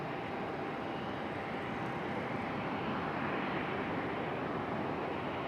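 An airliner arriving at Raleigh-Durham from San Juan, a faint, even rumble of jet engines in the distance, continuous and unchanging with no voices.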